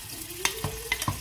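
Onions go into a hot pot for jollof rice: a brief burst of light sizzle with a few quick clunks and scrapes, close and short.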